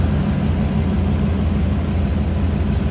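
The original V8 of a 1956 Ford Fairlane Sunliner convertible runs steadily at idle, a loud, continuous low rumble close by with no talking.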